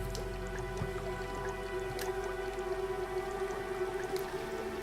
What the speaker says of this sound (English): Filled the jar with dripping oil.